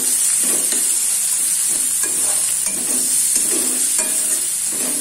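Chopped onion frying in a pan for egg kosha, a steady close sizzle with a constant hiss, broken by rhythmic scraping strokes of stirring roughly every second, with no talking.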